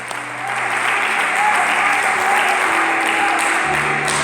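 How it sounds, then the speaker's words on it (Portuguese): A church congregation applauds the Lord, a steady, loud roar of many hands clapping that holds evenly throughout, with a faint sustained tone beneath it. "E aplauda o Senhor, os aplausos são para o Senhor"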